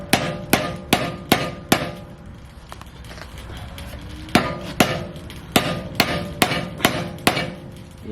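A hammer strikes car subframe bushings in sharp, ringing metallic blows: a quick run of four hits, a pause, then a steady series of about eight more, loud and close with no talk.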